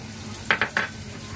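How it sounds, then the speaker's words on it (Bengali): Okra (bhindi) frying in a pan with a low steady sizzle, punctuated by three quick stirring scrapes close together, no voices over it. "আমি সব ভেন্ডিগুলো এইভাবেই ভেজে নেব।"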